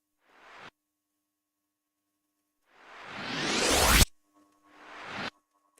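Three short bursts of a noise riser effect sweep upward in brightness, separated by silence. The middle one is longest and loudest and ends with a sharp cutoff, with no voices present.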